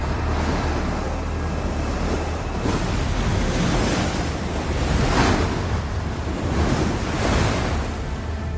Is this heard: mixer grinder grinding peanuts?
no